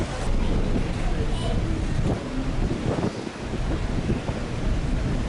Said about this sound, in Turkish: Bence Rüzgarlıdır Becan ha.